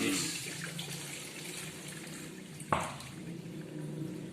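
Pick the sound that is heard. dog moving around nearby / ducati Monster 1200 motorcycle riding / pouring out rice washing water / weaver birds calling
pouring out rice washing water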